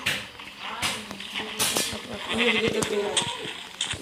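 Sheep bleat in Minecraft Pocket Edition, several short bleats scattered over a few seconds alongside game clicks and effects, with a person talking over them.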